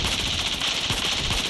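Rapid automatic gunfire from a shooting video game, Scarfall 2.0, rattling continuously and loudly through the whole short stretch with no talk over it.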